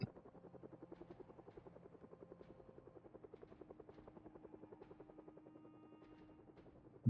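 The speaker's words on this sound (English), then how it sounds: "so the helicopter has a very, very long sound range" A helicopter in the Project Zomboid helicopter event thrums overhead, its rotor pulsing in a fast, steady rhythm, fairly faint and continuous with nothing else over it.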